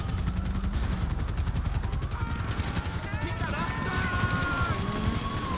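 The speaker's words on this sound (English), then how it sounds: "Fucking helicopter." Helicopter in the Grand Theft Auto V video game, a steady loud rotor chop pulsing throughout under game sounds, with a person talking over it.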